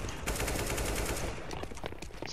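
Bursts of rapid gunfire from the video game CS:GO, dense and continuous shots through most of the short stretch, fairly loud, ending in a sharper burst.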